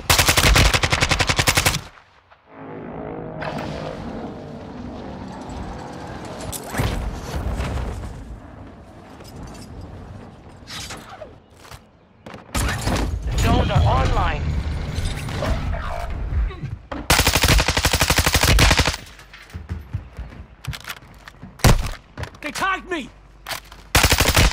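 Dense bursts of rapid automatic gunfire and explosions in a Call of Duty match, loud and near, with brief lulls between volleys and a voice speaking at times.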